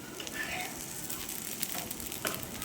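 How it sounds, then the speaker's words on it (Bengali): Cheese rolls frying in a pan, turned to cook on both sides, giving a soft, steady sizzle with faint crackles and a few light utensil clicks, quiet and close. "মুড়ে এপিট ওপিট ভালো করে একটু ভেজে নেব"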